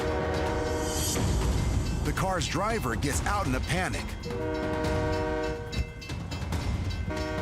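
A northbound train sounds its horn approaching a level crossing where a truck and a blue car are trapped on the tracks, loud, blaring and wavering in pitch over rumbling rail noise while a narrator talks over it.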